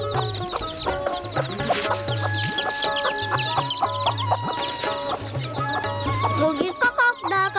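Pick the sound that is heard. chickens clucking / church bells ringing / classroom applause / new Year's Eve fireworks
chickens clucking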